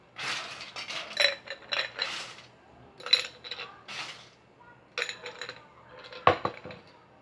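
Ice cubes clink and rattle as they are packed into a mixing glass for a dark rum cocktail, in several bursts of close, bright clattering separated by short pauses.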